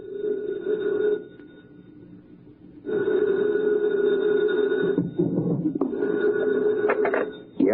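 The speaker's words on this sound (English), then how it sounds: "2 o'clock in the morning, the phone rang" An old-style telephone bell rings in two long, loud trills separated by a pause, with a clattering handling noise as the receiver is picked up near the end.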